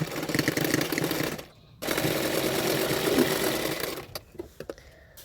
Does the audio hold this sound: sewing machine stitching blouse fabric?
yes